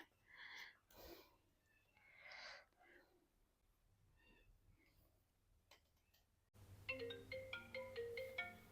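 A phone ringtone begins partway through, a bright repeating electronic melody playing loudly after a stretch of quiet voices and faint ticking.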